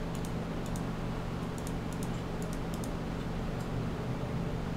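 Light, quick clicks of typing on a computer keyboard in small clustered bursts, faint over a steady low hum of background noise.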